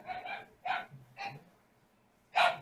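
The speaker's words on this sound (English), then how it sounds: "This is my dog." A dog barks in a home as a delivery arrives, giving four short separate barks spaced out over a couple of seconds, moderately close and with no talking over them.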